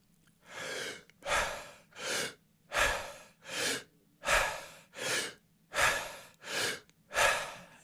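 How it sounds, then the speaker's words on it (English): Rhythmic mouth breathing during a breathwork demonstration, about ten forceful breaths into the chest, each a loud rushing inhale with a short quieter release, close and steady with no talking. "you're breathing in the chest through the mouth, focused on the inhale"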